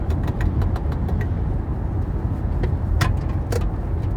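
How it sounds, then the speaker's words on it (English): Steady rumble of a car moving along a road, with constant low engine and tyre noise and a few faint clicks and rattles inside the cabin. "Car's driving a little fast for me right now"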